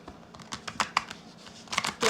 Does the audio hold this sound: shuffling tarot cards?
yes